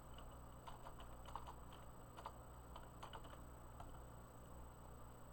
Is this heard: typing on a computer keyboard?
yes